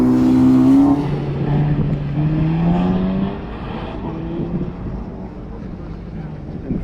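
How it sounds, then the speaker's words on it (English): A BMW M4 launches from the staging lanes at an autocross event at Grissom AFB, its engine rising in pitch near the start then pulling away and fading, with wind buffeting the microphone. "Baxter taking off in the M4"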